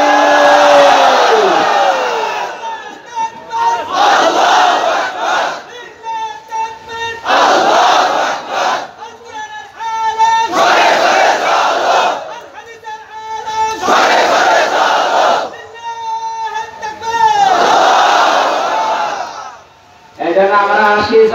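A large crowd at a Bangladeshi Islamic sermon gathering chants the takbir in loud, unified bursts. The roars repeat about every two to three seconds and alternate with a lead voice calling out between them.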